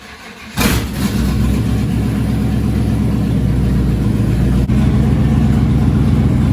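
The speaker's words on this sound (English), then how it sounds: "we actually turned on the car" A truck engine starts up after a fuel pump replacement and settles into a steady, loud idle close by, its low rumble continuing with no talking.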